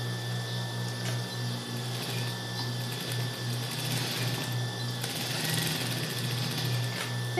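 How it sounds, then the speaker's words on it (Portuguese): A sewing machine stitches a child's wrap-style shorts seam closed with a steady, continuous motor hum and fast, even whirring, close and fairly quiet, running without pause. "E vamos costurar aqui, fechando."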